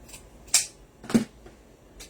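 Scissors snipping through wreath-making material, two or three short crisp cuts spaced apart, close and fairly quiet with no talking.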